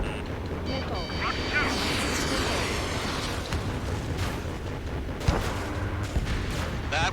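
Missile launch and explosion in the Ace Combat 7: Skies Unknown flight game, a rushing whoosh and booming blast layered over a constant jet engine roar, with radio voices talking over the action.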